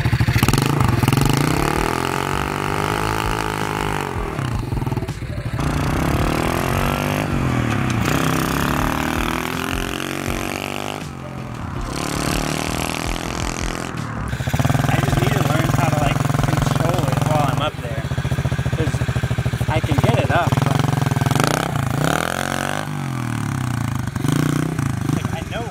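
A pit bike engine drones and revs in rising and falling surges during a wheelie attempt, loud and continuous for the whole stretch, with a person talking over it.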